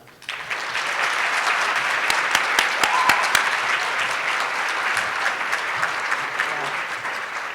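An audience at an evening fireside-chat dinner event applauds speakers onto the stage, a dense, sustained clapping from a full room with a few sharper individual claps standing out, continuous for several seconds.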